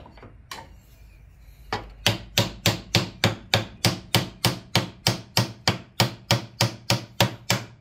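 Repeated hammer blows driving the wooden joint of a child's rocking chair, about three per second in a steady rhythm, close and sharp, after a few lighter taps at the start.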